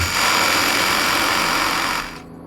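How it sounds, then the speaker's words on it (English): A Bosch professional vacuum cleaner, triggered by tool vibration through a retrofit system, runs with a loud steady whirring motor hum, then winds down and fades near the end. "once I initiate the process, the vacuum cleaner is activated by the vibration"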